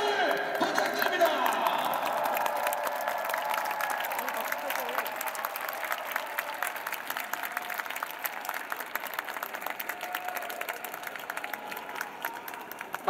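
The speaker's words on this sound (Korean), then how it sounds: "격려와 응원의 박수를 부탁드립니다." A stadium crowd of supporters applauds after a 3-1 football win over Jeonnam Dragons, a dense steady roar of clapping that runs throughout while an announcer's voice is heard.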